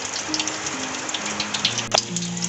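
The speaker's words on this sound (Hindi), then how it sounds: "ताकि लोगों को अगर बारिश की आवाज़ आए तो उससे ये अंदाज़ा हो जाए कि हाँ भाई बारिश हो रही है कराची में" Rain falls in Karachi with a soft, steady patter and drip, joined by faint intermittent tones and a sharp brief clatter near the end.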